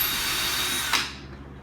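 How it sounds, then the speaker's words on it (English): A power drill whirs steadily into the underside of a butcher block breakfast bar, a continuous close mechanical drone that shifts in pitch as the bit cuts through the wood, then winds down. "Turn over your butcher block breakfast bar and drill holes that are 16 inches apart."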